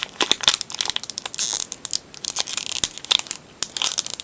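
Pokémon card booster pack torn open by hand, a rapid series of sharp crinkling, ripping foil-wrapper sounds, close and loud, with no speech.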